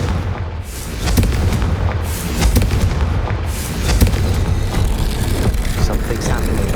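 Confringo fire spell explosions in the video game Hogwarts Legacy, a series of loud booming blasts within a dense, constant rumble of game noise, with some speech mixed in.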